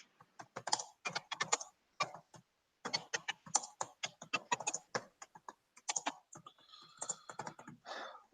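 Fast, uneven typing on a new computer keyboard, with bursts of crisp key clicks broken by short pauses, close and fairly quiet, with no talking over it.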